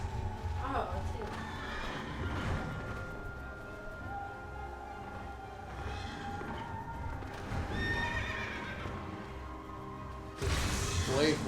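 A horse whinnies and hooves clip-clop in the video game Final Fantasy XIV, set under steady background music, with a louder burst near the end and people talking over parts of it.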